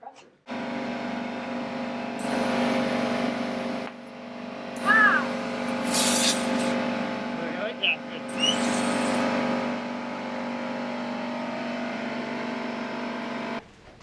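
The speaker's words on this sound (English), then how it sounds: "Why don't we just use the compressor?" A garage air compressor runs loud and steady for inflating a tubeless mountain bike tire, a continuous motor drone with bursts of hissing air between short pauses, with people talking over it.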